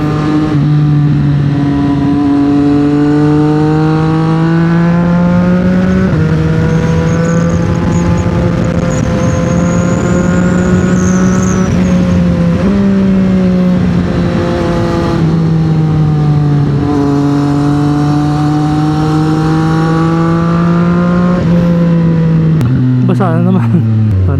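A CFMOTO 675SR-R motorcycle engine revs loud and close, pitch climbing steadily in several long pulls. Each pull ends in a brief drop as it shifts up through the gears, with a final lower dip near the end.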